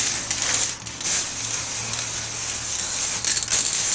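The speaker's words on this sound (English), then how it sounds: "The trick is to not try and spray too much at one time" Gold spray paint hisses from an aerosol can as a coat goes onto a party prop, a loud continuous spray with brief dips and faint rattles, close to the mic and without talk.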